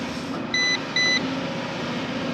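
A Gleesfun G11PRO drone gives two short, bright electronic beeps in quick succession during compass calibration, clear over steady background noise from nearby construction.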